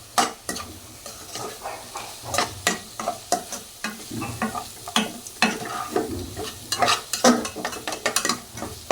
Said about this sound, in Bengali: এখন সুন্দর করে মশলাটা কষাই নিই।